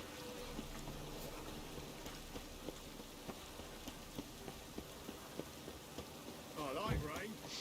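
Rain in The Witcher 3: Wild Hunt patters steadily on surfaces, soft and fairly faint, with regular light ticks and a brief louder swell near the end, no voices.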